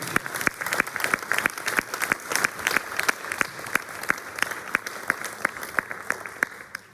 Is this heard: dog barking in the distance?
no